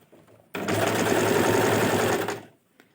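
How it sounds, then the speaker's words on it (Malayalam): A sewing machine stitches elastic onto fabric for a four-way elastic attachment, running in one steady, loud burst of rapid needle clatter for about two seconds, with quiet before and after and no talk. "ശേഷം നമുക്ക് സ്റ്റിച്ച് ചെയ്തെടുക്കാം കേട്ടോ"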